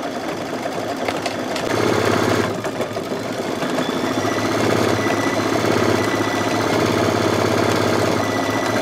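An embroidery machine stitches an inscription in black thread, its motor humming in a fast, even mechanical patter that holds steady throughout, close and fairly loud with no talking.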